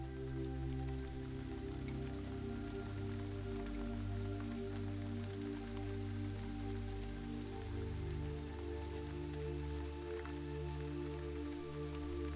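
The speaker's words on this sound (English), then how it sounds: "it begins to lightly rain." Steady, gentle patter of light rain falling on a surface, continuous and even, with a soft low hum underneath and no voices.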